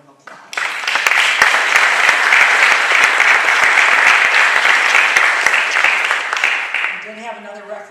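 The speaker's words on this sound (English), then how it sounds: "I'd like to give you a big round of applause." A Hall of Fame ceremony audience gives a loud, full round of applause that starts abruptly, holds dense and steady for several seconds, then fades as a voice begins speaking.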